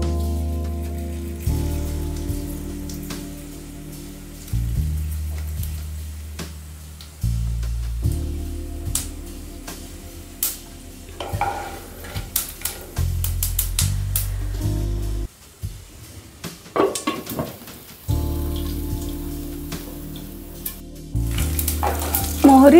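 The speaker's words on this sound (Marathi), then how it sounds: "मोहरी तडतडली की हिरव्या मिरच्या घालायच्या" Mustard seeds crackle in hot oil alongside cloves and black pepper over a low flame, a dense sizzling patter with bursts of sharp pops, heard up close over a steady low hum.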